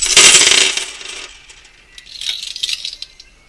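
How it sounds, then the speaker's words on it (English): Runes and dice cast for a reading tumble and clatter in a loud rattling burst, followed by a few quieter clicks and taps as pieces settle. "Start off with our runes and dice."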